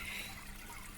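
Koi pond water is pumped up and trickles steadily back down over a shower filter in a back garden IBC pond setup, a continuous close splashing hiss with no talking.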